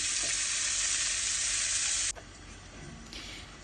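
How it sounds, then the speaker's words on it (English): Loud, dense sizzling of minced beef frying in a hot pan, close by, then abruptly quieter as the heat drops, leaving a softer crackle. "let's start putting our minced beef into the frying pan"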